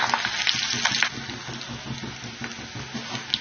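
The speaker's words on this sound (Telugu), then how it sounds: "ఆయిల్ హీట్ అయింది చితక్కొట్టిన వెల్లుల్లిపాయలు వేస్తున్నాము అలాగే రెండు ఎండుమిర్చి" Crushed garlic and dried red chilies frying in hot oil, a close, steady crackling sizzle with sharp popping spatters, louder at first and then settling to a lighter continuous fry.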